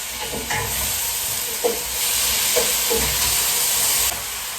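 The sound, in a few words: tomatoes stirred while frying in pan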